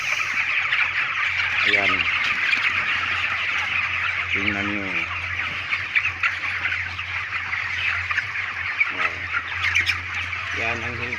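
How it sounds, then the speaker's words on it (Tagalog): Chickens at a poultry farm in Calinan, Davao, 28 days old, keep up a dense, steady chorus of clucking and chirping close by, while someone talks intermittently over the flock. "Ito na yung manok ng Kiandi Farm, age of 28 days."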